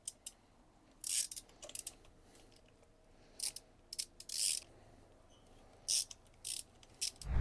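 Ratchet wrench clicking in short, irregular bursts as an engine is turned over by hand during a timing belt job, with the spark plugs removed. Sharp, fairly close ratcheting separated by pauses in a quiet workshop.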